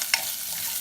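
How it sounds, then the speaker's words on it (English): Ginger and cashews sauté in a pan for upma, a short burst of sizzling with one sharp stir or scrape near the start, then a steady soft frying hiss for under a second. "I'm gonna add a little bit of the cashews as well into it. Let's get it sauteed"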